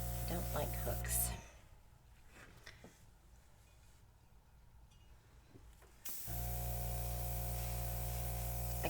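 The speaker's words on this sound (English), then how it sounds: "Airbrushing is fun. It definitely does create a whole new effect." Airbrush spraying acrylic paint while painting, a steady soft hiss lasting several seconds between stretches of hum, fairly quiet and heard alone.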